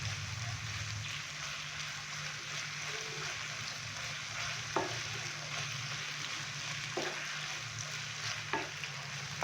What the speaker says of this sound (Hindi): फ्लेम थोड़ा सा हाई करेंगे और हाई फ्लेम पे हम इसको 2 से 3 मिनट के लिए मज़ीद कुक करेंगे।